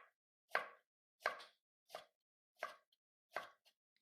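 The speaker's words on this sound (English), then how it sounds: "Now I'm going to show you how to slice the tomatoes." Five evenly spaced knife cuts through ripe tomatoes on a cutting board, each a crisp, close slicing thud with short squelch, separated by brief silences.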